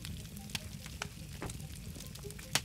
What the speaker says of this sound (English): When you start hearing that sizzling, is you know that you got it in the right place